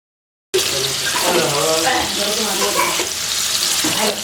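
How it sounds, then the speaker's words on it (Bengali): Pieces of pointed gourd (potol) fry in a little oil, giving a loud, steady hiss and crackle that starts abruptly after a short silence and continues unbroken. "পটলগুলোকে অল্প একটু তেলের মধ্যে রেখে নিচ্ছি"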